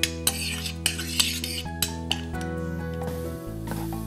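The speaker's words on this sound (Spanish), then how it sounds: "ya tenemos el ajo frito y ahora ponemos la col. Aquí lo vamos revolviendo" A utensil stirs fried garlic and cabbage in a pan, with sharp metallic clinks and scrapes repeating every half second or so over a steady low hum, close and clear with no talking.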